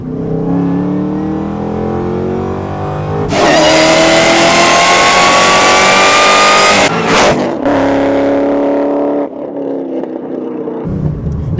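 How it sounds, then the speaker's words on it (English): A 5th-gen Camaro ZL1's engine revs hard up close with a high supercharger whine rising over the roar, in loud sustained bursts that climb in pitch, cut off, then rev again. "the supercharger whine is actually another thing that I first kind of like noticed about this car"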